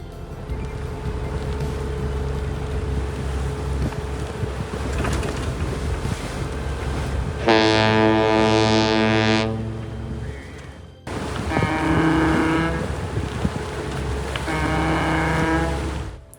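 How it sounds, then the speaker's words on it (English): Deep foghorns on San Francisco Bay sound from aboard a sailboat, two long tonal blasts over steady wind and engine rumble, the second horn pulsing in shorter bursts. "These are evidently the welcome home horns of San Francisco Bay"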